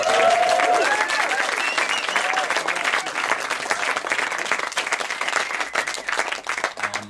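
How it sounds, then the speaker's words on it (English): An audience at a stand-up beat poetry performance gives a sustained round of applause, loud and steady throughout, with dense clapping and a little crowd noise mixed in. "Can we give them a round of applause, please?"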